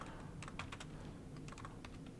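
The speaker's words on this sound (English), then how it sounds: "I'm going to just type out a bunch of stuff" Quiet typing on a computer keyboard, short bursts of soft key clicks with brief pauses, close but faint.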